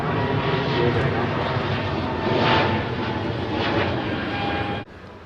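A jet airliner's engines roar steadily overhead at the Farnborough 2022 airshow as people talk beneath the noise, before the sound cuts off abruptly.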